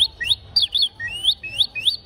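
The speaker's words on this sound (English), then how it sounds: "This is an instrument they use to hunt birds. So, like a bird." Rapid, repeated sharp chirps come from a bird-hunting call instrument sold in Rio de Janeiro, Brazil. The calls are sounded up close in an even, steady run of bird-like tweets.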